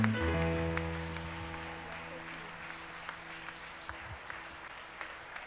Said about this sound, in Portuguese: Vamos aplaudir um pouquinho mais forte